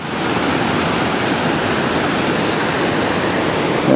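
Waterfall in a river gorge on an Adirondack hiking trail, a loud, dense, unbroken rush of falling water filling the whole stretch, close and steady with no voices.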